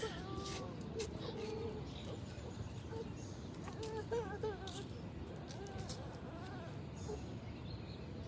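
Birds call by a pond in Manhattan, with soft cooing and short chirps repeating over steady outdoor background noise, faint and at a distance.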